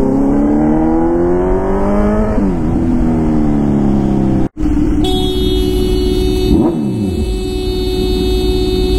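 A Kawasaki Z900 superbike revs through rising gear pulls while being ridden, its engine note climbing, shifting and climbing again, with a brief dropout midway and a loud, close wind-rushed roar.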